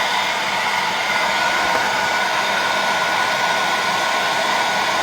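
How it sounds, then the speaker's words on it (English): A hair dryer runs steadily at close range with a constant, loud airy whoosh and no change in pitch, used for drying a wooden heart decoration in place of a heat gun. "I'm not sure if it works with hair dryer. Let me try it."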